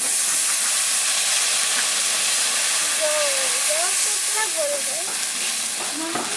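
Water is poured into hot oil tempered with black cumin and green chillies, setting off a loud, close, continuous steamy hiss and sizzle while a person speaks briefly underneath.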